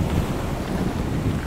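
Wind blowing outdoors on a coastal trip near Udupi, a steady loud rushing buffet across the microphone, low and continuous with no voices.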